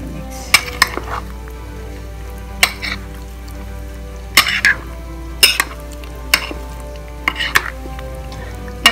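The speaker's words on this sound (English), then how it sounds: "I'm going to add about 2 tablespoons of milk, any milk, and then I'll give it a mix" A spoon stirs masala mixture in a frying pan after milk is added, scraping and clinking against the metal at irregular intervals over a steady sizzle. No one speaks.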